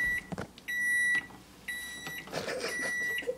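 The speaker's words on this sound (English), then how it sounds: "Set it in the microwave. Go on high for..." Microwave oven running on high, a steady near hum joined by high electronic tones that come in several sustained stretches with brief gaps and small clicks between them.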